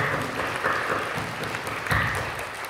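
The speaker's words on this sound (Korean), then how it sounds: "우리 사랑하고 격려하는 마음으로 박수해주십시오." A church congregation at a Friday night service clapping together, a steady wash of applause that stays even throughout, moderately loud and without talking.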